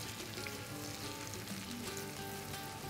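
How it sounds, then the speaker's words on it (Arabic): Onions sizzle steadily in a pan as they are sautéed for a ratatouille tart, a close, even frying hiss with no voices. "نحمص البصل زين، مجرد عملية تحميص المواد كلها"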